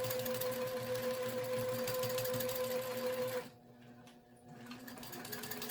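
Domestic sewing machine doing straight-line quilting, a loud steady motor drone with rapid needle clatter running continuously, then a short stop and a quieter resumption.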